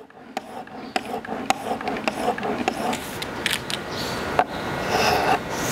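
Repeated sharpening strokes across a single-bevel arrow broadhead, a series of close, quiet rasping scrapes with small clicks between passes, no talking.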